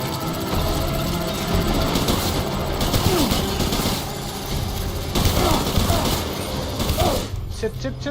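Sustained gunfire in the video game Death Stranding during a battle with Clifford Unger, dense overlapping shots and rattling bursts with a mechanical drone beneath, continuous across the whole stretch while a voice speaks briefly.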